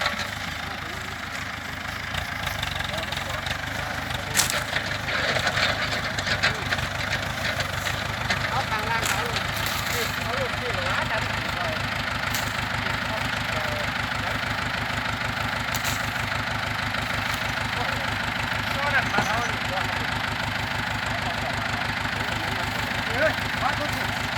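Grab loader truck idling at the scene of an overturned sugarcane truck, a steady mid-to-low engine rumble running throughout, with someone talking over it.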